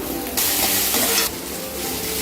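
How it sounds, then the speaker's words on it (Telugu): Onions frying in a pan with curry leaves and mint: a loud, steady sizzle that surges sharply and briefly as something is stirred or added. "ఇప్పుడు ఆనియన్స్ బాగా వేగాయి"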